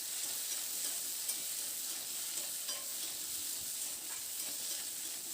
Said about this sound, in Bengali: এবার আলু আর বেগুনটা দিয়ে নাড়াচাড়া করে বেশ একটু হালকা লালচে রং ধরা পর্যন্ত একটু ভেজে নেব।